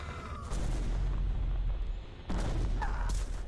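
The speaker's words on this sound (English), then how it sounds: "Oh, he exploded!" Explosions in StarCraft Remastered, two heavy booming blasts a couple of seconds apart, each with a rumbling low tail, loud and up close with no talk.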